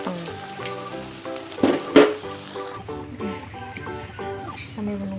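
Tempeh fries in hot oil with a soft continuous sizzle and crackle, a few louder spatters near the middle, under a tinkling music background.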